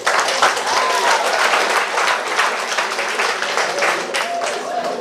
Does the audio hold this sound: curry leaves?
no